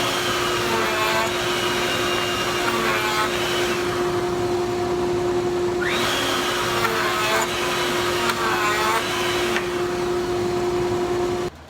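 A router takes light passes through scrap wood, giving a loud, continuous high-pitched whine close by that lasts throughout, with faint shifts in tone as the cut changes and no talk.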